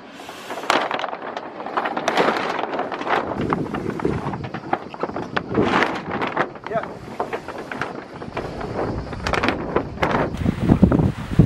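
A sailboat cruising under wind power along the Croatian coast: steady broadband wind buffeting and water rush at close range, with voices talking over it throughout.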